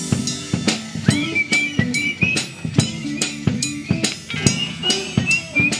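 A crowd whistles in sharp, repeated bursts over a pounding rock beat, the shrill calls rising and falling in rhythm with loud music.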